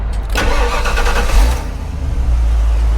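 A 1993 Ford Lightning pickup with a 5.8 V8 and aftermarket exhaust cranks briefly, catches and settles into a loud, steady, rumbling idle, close up with no talking.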